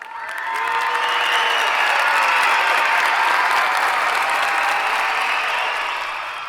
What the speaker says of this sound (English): Y'all give yourselves a round of applause.